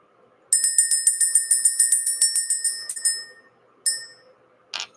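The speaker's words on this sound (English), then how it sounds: "Let's ring this bell. Let's clear out the energy" A small bright bell rings in a fast run of about fifteen evenly spaced strikes, loud and close, then fades. A single strike follows, then a short rustle.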